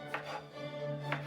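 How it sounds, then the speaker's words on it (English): A cheap serrated steak knife chops Roma tomatoes for pineapple pico de gallo, with two soft cuts a second apart over a steady background hum. "Start with the Roma tomatoes. And we're just going to chop them up."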